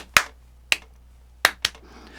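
Flamenco palmas for a tangos rhythm: five sharp, close hand claps in an uneven pattern, with quiet pauses between them.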